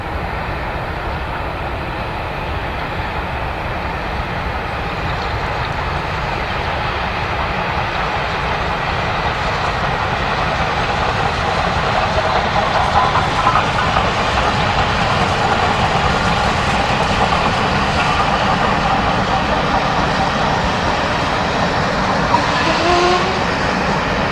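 A Stanier steam locomotive, No. 44932, works a mainline train with a loud, continuous roar that builds slightly as it draws nearer. Wheels rumble over the rails throughout and no one speaks.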